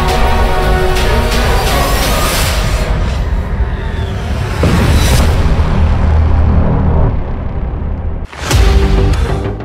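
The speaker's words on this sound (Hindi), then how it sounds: "मिसाइल टैंक की तरफ बहुत तेजी से बढ़ती है और इजराइल के मरकावा में बहुत बड़ा धमाका होता है।" An anti-tank missile strikes an Israeli Merkava tank, producing a loud, dense roaring blast with heavy low rumble that persists for seconds, followed by a sharp cutoff and a second sudden burst near the end.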